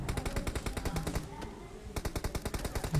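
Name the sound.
gunfire in the video game PUBG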